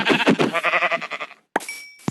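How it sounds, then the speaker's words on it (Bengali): A synthetic Minecraft sheep bleat rings out loudly and steadily, then stops, followed by a couple of short clicks and a faint high tone. "একটা ভেড়া পেয়ে গেছি"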